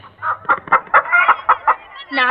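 Close, loud clucking from a chicken in a rapid series of short calls, ending in a longer drawn-out squawk.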